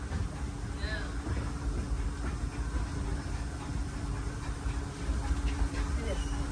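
Disneyland Railroad train rolling along jungle-themed rails, a steady low rumble and rattle of wheels and cars throughout, with a faint hum and light clanks, fairly close and continuous.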